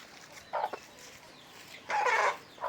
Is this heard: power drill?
no